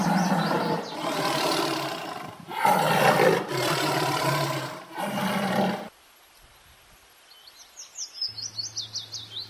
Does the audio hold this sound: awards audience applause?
no